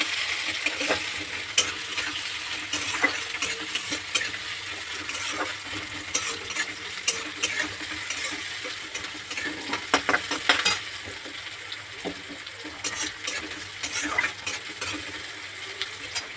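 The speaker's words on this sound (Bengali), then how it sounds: "পেঁয়াজ কুচিটা দিয়ে দিয়েছি এবার লাল লাল করে পেঁয়াজটা ভেজে নেবো" Chopped onions fry with panch phoron in a pan, a steady close sizzle broken by frequent scrapes and clinks of a spatula stirring against the metal, with no talking.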